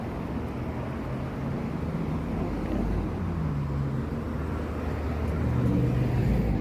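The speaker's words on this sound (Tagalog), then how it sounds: "So yung mga sasakyan na pumapasok dito" Traffic rolls along Tarrytown Road in a steady, continuous engine rumble and tyre hum that builds slightly toward the end, with no talking.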